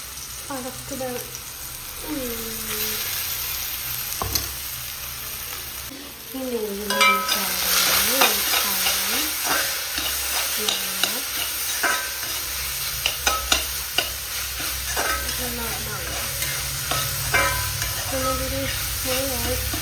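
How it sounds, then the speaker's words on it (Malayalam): Banana pieces are sautéed in ghee, stirred steadily with a scraping spoon over a continuous sizzle. A voice is heard faintly at times beneath the cooking. "ആ നെയ്യിലേക്ക് ഞാനിതാ പഴം മുറിച്ച് ഇട്ട് കൊടുത്തിട്ട് പിന്നെ നന്നായിട്ടൊന്ന് വയറ്റി കൊടുത്തു."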